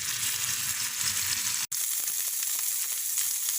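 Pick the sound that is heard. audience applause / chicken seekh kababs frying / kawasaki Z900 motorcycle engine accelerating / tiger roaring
chicken seekh kababs frying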